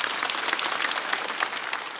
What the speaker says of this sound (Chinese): 再次掌声送给哈曹